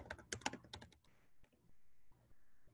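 Typing on a computer keyboard: a quick burst of loud, close key clicks in the first second, then a few scattered taps over faint room hum.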